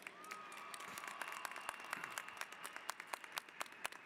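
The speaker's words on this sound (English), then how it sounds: "Let's give them all a big round of applause." Crowd applause at a college commencement ceremony, with dense, steady clapping and sharp individual claps popping through, heard from a distance at low level.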